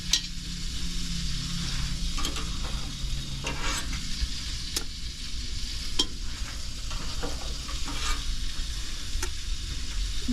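Big meatballs simmering on low in a pot of marinara sauce give a continuous soft sizzling bubble, close and even throughout, with faint occasional ticks and no voices.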